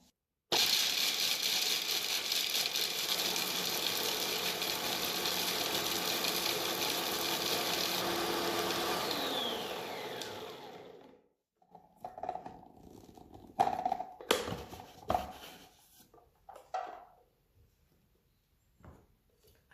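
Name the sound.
food processor chopping almonds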